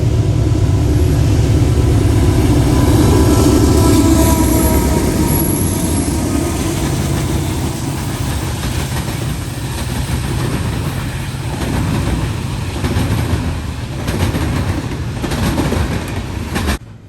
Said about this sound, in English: Next is NS-272 as he heads south across the diamond at Attica Junction